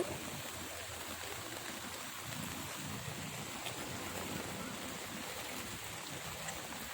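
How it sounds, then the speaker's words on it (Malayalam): Floodwater pours in from a stream, a continuous broad rushing wash of flowing water, steady and moderately distant, with no voices. "തോട്ടിൽ നിന്ന് ഇപ്പോൾ നല്ല കണക്ക് വെള്ളം കയറി വരുന്നുണ്ട്"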